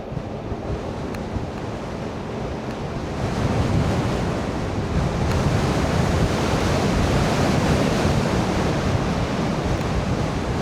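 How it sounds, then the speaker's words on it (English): Strong wind buffets the microphone at about 6,000 feet in the mountains near Mt Gleason, a steady broadband roar that grows louder partway through and continues unbroken with no talk. "Windy."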